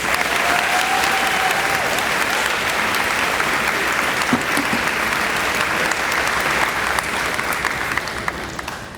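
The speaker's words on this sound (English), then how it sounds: "Please give a big round of applause for Daniela Adrian." Sustained, loud applause from a school audience at a 2024 high school awards assembly, honoring a student. The clapping stays dense and even for the full stretch, with no talking over it.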